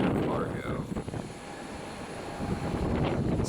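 A Qatar Airways cargo jet passes overhead amid Sahara dust haze, a broad roaring engine rumble with wind buffeting that swells, eases, then builds again, with no voices.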